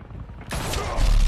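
A gunshot in Batman: The Telltale Series breaks in as a sudden loud crack midway, followed by a sustained, dense rumbling wash of game sound that stays loud to the end.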